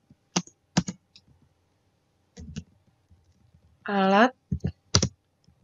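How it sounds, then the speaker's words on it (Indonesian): Keystrokes on a computer keyboard during a typing lesson, including an Enter press: sharp isolated clicks in small clusters, near and fairly loud, with a brief spoken word between them. "Jika sudah, kita tekan enter di keyboard."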